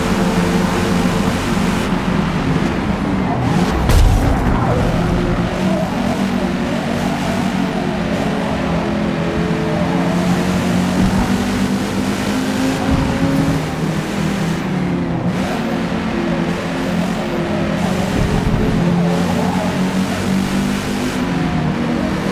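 A race car in Forza Motorport roars continuously for the whole stretch, its engine loud and close with shifting pitch as it accelerates and slipstreams along the track, steady throughout.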